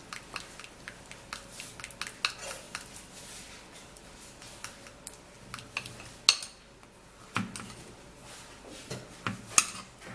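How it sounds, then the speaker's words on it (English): A Vaseline and toothpaste mixture being stirred in a small container, giving repeated light clinks and scrapes of a utensil against the dish, quiet and close, with irregular sharper taps. "we're going to be stirring it and making sure that it's properly mixed together"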